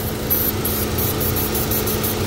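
Holden Cruze engine idling with a faulty PCV diaphragm, a steady, continuous mechanical hum with a constant low drone and a faint rhythmic high-pitched whistle pulsing over it, heard up close with no talking.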